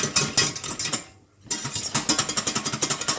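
Crème pâtissière is whisked vigorously in a metal pan, a fast, loud, steady rhythmic clatter of whisk against metal, broken by a brief pause before the beating resumes even quicker, close up with no talking.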